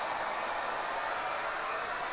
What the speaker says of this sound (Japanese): 斜めからドライヤーで風を向けてもこの風船は落ちないんです